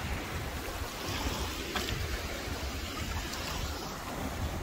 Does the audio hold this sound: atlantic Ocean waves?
yes